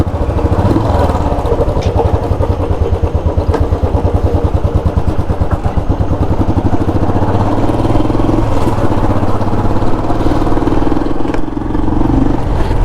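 Royal Enfield Classic 350 engine while riding, a loud steady single-cylinder thump with a rhythmic low pulse and occasional shifts in pitch, close and continuous with no talk.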